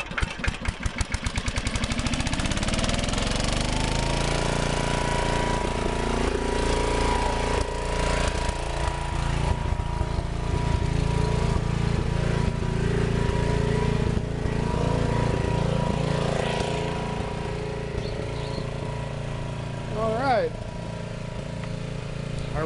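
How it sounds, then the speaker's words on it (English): A McCulloch generator engine, started by rope pull and feeding pole transformers, runs loud and steady after a few sputtering pulls at the start, its close, continuous drone holding throughout. "So the McCulloch generator is transferring through all of these."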